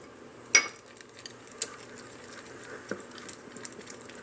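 A spoon working muffin batter with chocolate chips and cranberries in a bowl, with a sharp clink against the bowl followed by soft scattered scrapes and taps, close and fairly quiet.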